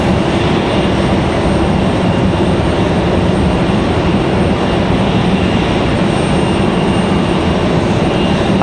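Boeing 777 engines roar at Raleigh Durham airport, a loud, steady broadband rumble with no let-up and no voices.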